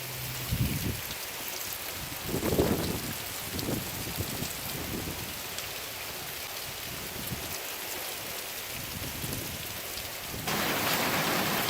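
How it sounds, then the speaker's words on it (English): Heavy rain falls hard and steady outside a house with a porch roof as a north wind drives it, a thick unbroken roar that swells near the end, with a few dull thuds early on. "It's coming down hard enough and blowing out of the north that the water blew in underneath the porch roof."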